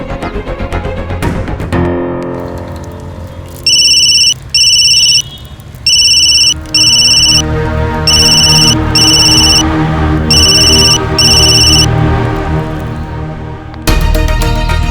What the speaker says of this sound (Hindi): सीनियर मिस बोस तो मेरा फोन जरूर उठाएंगे।